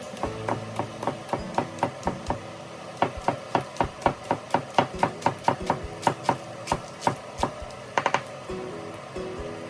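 A knife chopping spring onions on a board, a quick run of about twenty sharp knocks in a steady rhythm, near and crisp.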